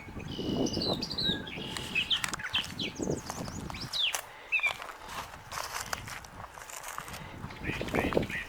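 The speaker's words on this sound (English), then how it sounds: "Love to hear the birds" Birds chirp and tweet outdoors along a river during a spring bike hike, with bright scattered calls throughout, mixed with footsteps and rustling on the ground nearby.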